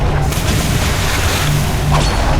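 Cannons fire at a ghost ship in the video game Atlas, a loud, dense, continuous roar of booms and crashes filling the whole stretch with no breaks.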